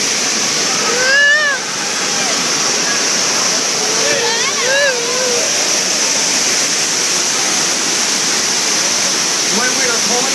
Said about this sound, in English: The water main just broke.